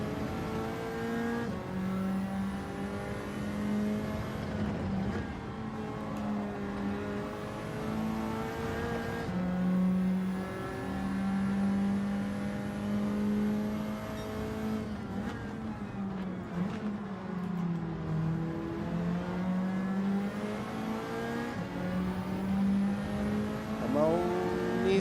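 A Nissan car engine in Gran Turismo 7 revs loudly and continuously, its pitch rising and falling through gear changes over a steady drone with no talk.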